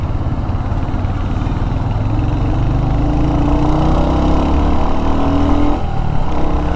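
A Royal Enfield Hunter 350 motorcycle engine runs steadily while riding in city traffic, a loud, close, continuous low rumble with a rising note near the end, no voices.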